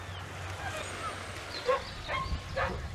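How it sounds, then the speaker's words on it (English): A dog barks a few times at a distance across a coastal cove, faint yips spaced apart over wind and open-air background. "a rather annoying dog"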